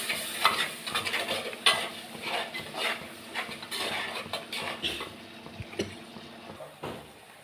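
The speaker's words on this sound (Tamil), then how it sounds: "இது நல்லா வதங்கட்டும்." Soft sizzling of tomato paste sautéing in a pan with stirring scrapes and occasional clinks, close but fairly quiet, continuing steadily with no voices.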